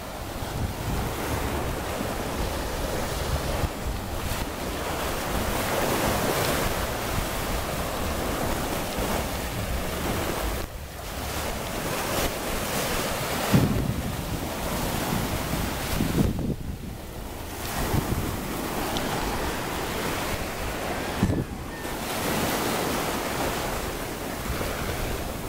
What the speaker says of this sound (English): I'm talking about them waves there